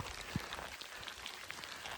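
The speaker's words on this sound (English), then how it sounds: "anyhow, 45 degrees, hail." Hail falls around a hiker on the Pacific Crest Trail in cold weather, a steady dense patter with occasional sharper ticks on a thin plastic rain shell.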